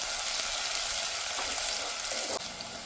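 Three thinly sliced green chillies sizzle in hot oil in a pan, a steady bright crackling hiss close up with a brief stir-like disturbance near the end.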